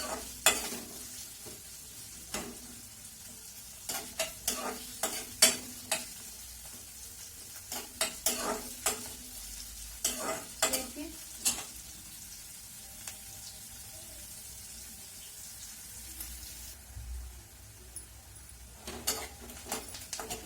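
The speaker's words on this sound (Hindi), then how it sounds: "प्याज को डाल के गोल्डन होने तक भून लेंगे" Onions frying in a pan until golden, a soft steady sizzle with scattered scrapes and taps of a spoon stirring against the pan, fairly quiet and without talk.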